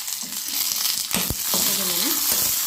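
Cumin and chopped green chilies crackle in a hot pan, a close continuous sizzle with a stirring scrape, while a voice speaks briefly over it.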